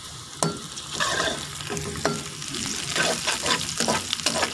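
Finely chopped green chillies and capsicum stir-frying in a hot pan, with steady sizzling and repeated sharp clinks and scrapes of a spatula against the metal, close and fairly loud throughout.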